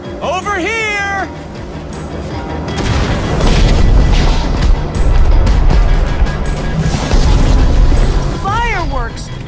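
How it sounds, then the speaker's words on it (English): Fireworks explode in Minecraft: Story Mode as a rumbling, crackling roar that runs for about six seconds. Short voiced cries come just before and right after it. "Fireworks! Good thinking, Lucas!"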